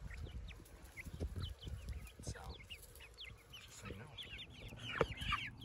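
Backyard chickens in a suburban permaculture yard clucking in short, repeated calls, fairly close and moderately quiet, with a few louder squawks toward the end and a voice faintly present.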